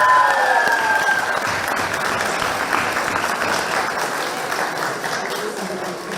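Audience applause for a singer's performance at a gathering in Aghveran, steady and sustained throughout, dense clapping from a crowd with a faint tonal sound early on.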